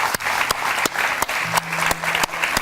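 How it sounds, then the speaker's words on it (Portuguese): A live audience claps at a national production day event in Portugal, broadband applause with sharp thumps and a low hum underneath, steady and fairly loud. "Uma salva de palmas."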